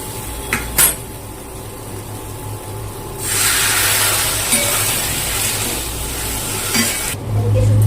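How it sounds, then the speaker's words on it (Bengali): Bitter gourd and vadi frying in a pan give a few clinks at first, then water is poured in and a loud, sustained hiss and sizzle fills the rest. "ভাজা ভাজা হয়ে গেছে, এবার জল দিয়ে দেবো।"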